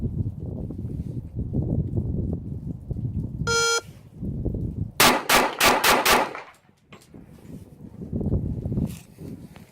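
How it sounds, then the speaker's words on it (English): A 1911 pistol fired rapidly, a tight string of about five loud, sharp cracks in quick succession standing out from low background rumble and voices, followed by quieter handling. "Rapid fire with the 1911."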